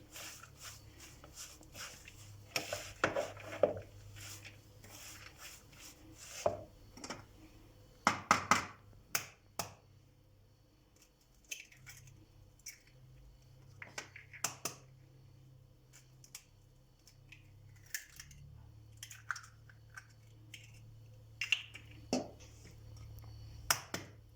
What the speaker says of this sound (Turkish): Daha sonra 8 tane yumurtamız var. Onları kıracağız.